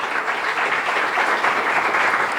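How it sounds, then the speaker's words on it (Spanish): Congregation at a church service applauding, a dense, steady wash of many hands clapping together without a break. "Denle un aplauso al Señor."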